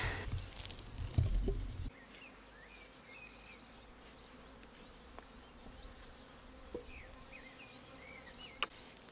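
Honey bees buzz steadily around an open Flow Hive during a honey harvest with smoke in use, a dense close hum with a brief low rumble near the start.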